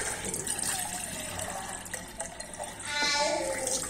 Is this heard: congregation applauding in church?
no